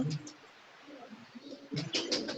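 Pigeons coo in a loft in Lahore during light rain, soft low calls rising and falling, with a louder burst of cooing toward the end amid faint background noise.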